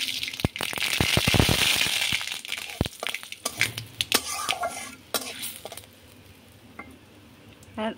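Mustard seeds dropped into hot oil already frying dried red chillies and bay leaves for a mango chutney, giving a loud crackling sizzle with spoon scraping and clattering against the pan, then quieter sputters.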